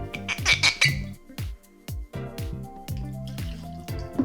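Cognac glugs and trickles from a bottle into a jigger for a Sidecar cocktail, a close, irregular series of pouring gurgles with brief pauses between them.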